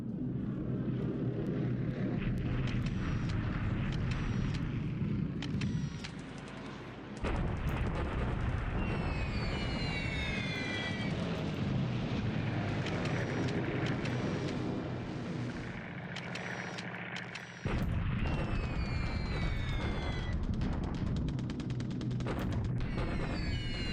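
Anti-aircraft flak fire in the War in the Pacific video game is a dense, continuous rumble of bursts and booms that runs steadily throughout, with no talking.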